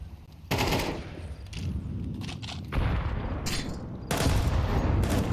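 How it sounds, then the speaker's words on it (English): Counter-Strike match audio: an HE grenade goes off amid heavy gunfire, with three sharp loud bursts of explosive, crackling noise separated by quieter stretches of rattling shots and rumble. "Huge nade. Lands right at the feet of Ali."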